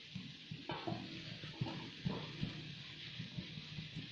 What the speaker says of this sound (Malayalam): നല്ല തിള വരുന്നുണ്ട്.